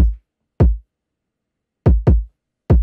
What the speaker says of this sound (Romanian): Kick-ul care e cam așa.